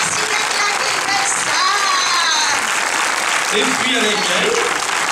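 At a French film premiere of Jour J, a theatre audience gives loud, sustained applause for director-actress Reem Kherici, a dense wash of clapping that continues under someone speaking over it.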